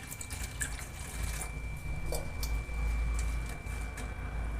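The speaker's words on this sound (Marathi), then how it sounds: "आता हे पाण्यामध्ये ठेवते मी" Water trickling and dripping steadily over roasted dried prawns soaking in a bowl, a continuous close splashy patter with no talk.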